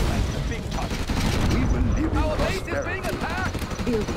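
Gatling gun bursts in a chaotic Command and Conquer Red Alert 3 five-player free-for-all battle, rattling steadily amid explosions and busy battle noise with a voice talking over it.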